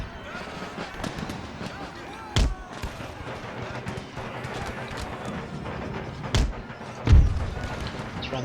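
Scattered musket and artillery fire from army units in Empire Total War, a few sharp booming shots with a busy battle clamor behind them.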